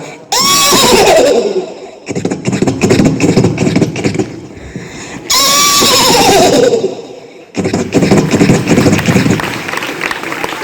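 A performer in a Marathi bharud comedy show imitates a horse neighing, two loud, drawn-out whinnies with a falling pitch, each followed by crowd laughter and noise.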